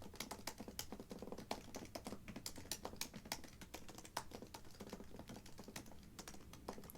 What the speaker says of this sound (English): I'm just going to type something out.